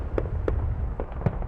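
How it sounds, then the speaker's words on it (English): Several sharp firework bangs go off at irregular intervals over a steady low rumble, in a neighborhood setting with uncontrolled, dangerous fireworks, with no talking. "anything can happen with dangerous fireworks that are not controlled."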